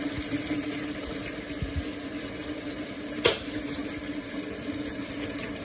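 Warm water runs from a tap for washing chitterlings in a kitchen, a steady close stream with a faint hum and a brief clunk midway.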